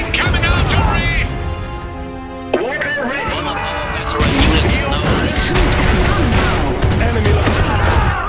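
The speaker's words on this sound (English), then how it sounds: "Our position has been shelled." Artillery shelling in the video game Iron Harvest 1920+, booming impacts and gunfire in a dense battle mix with a sharp thud midway, under game voice lines and music.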